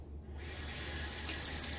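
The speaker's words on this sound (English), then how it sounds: "Kind of holding it upside down under the water so that that side soap get out of the threads of the tin." Tap water runs steadily over a tin of Pre de Provence shaving soap as it is rinsed at a sink, a close, continuous hissing splash with no talk.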